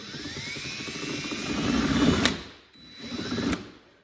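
A power drill whirs and bites into a fender flare in two bursts while installing it on a Yamaha RMAX2, rising in strain before each stops, close and fairly loud.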